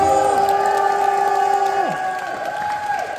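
Fans at a debut showcase clap and cheer for the group, a loud crowd roar with whoops. Tonal music or a sustained held note runs under it and fades as the applause thins toward the end.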